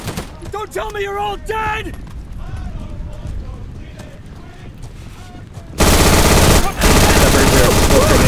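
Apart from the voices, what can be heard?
gunfire shooting Germans in a zombie war video game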